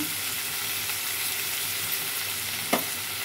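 Salted dried fish frying in a pan, a continuous even sizzle with one brief clink near the end.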